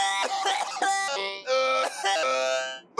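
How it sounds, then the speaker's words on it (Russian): An electronic-sounding cough used as a comedic effect repeats in several short, buzzy, tonal bursts, then one longer drawn-out one, heard alone and close. "И уже ночью его начинает мучить электронный кашель."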